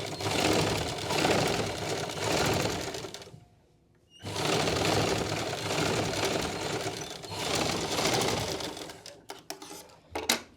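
A sewing machine stitches practice lines into cloth in long loud continuous runs, pausing briefly once, then resuming before a few short clicking bursts at the end.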